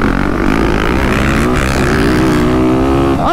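A 2024 Yamaha YZ450 four-stroke dirt bike launching at a motocross demo day, its engine roaring loud and close with a continuous hard-pulling drone that climbs in pitch, no talk.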